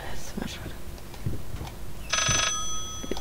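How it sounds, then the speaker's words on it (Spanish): Telephone ringing in the horror video game Layers of Fear, a short bright electronic ring burst partway through, preceded by scattered creaks and thumps of the game's ambience. "¿Qué, el teléfono volando por ahí?"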